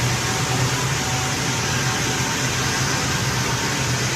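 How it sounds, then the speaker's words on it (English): Cooling fans in a data center server rack, a loud, dense, unbroken whooshing roar with a low hum underneath, steady throughout and heard without any voices. "it's fans in a data center. This is the data center ambiance"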